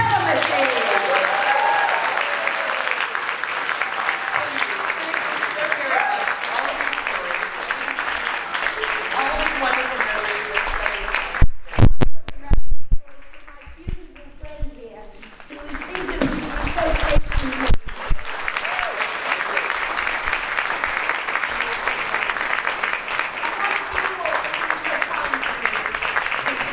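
A convention audience applauds in a long, dense patter of clapping that fades briefly midway, then picks back up and carries on steadily, with speech faintly mixed in.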